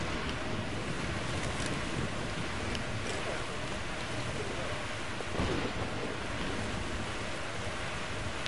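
Steady rain and rolling thunder from a storm in the video game Metro Exodus, a continuous dense wash of rainfall with low rumbles swelling throughout, plus a brief brighter crack near the middle; no voices.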